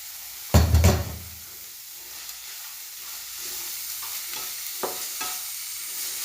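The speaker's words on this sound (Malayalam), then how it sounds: "ഇനിയാണ് നമ്മളെ ചെമ്മീൻ ഇട്ട് കൊടുക്കണം" Prawns go into a hot pan with a loud burst of sizzling at first, which settles into a quieter, steady frying hiss with a few scrapes of stirring.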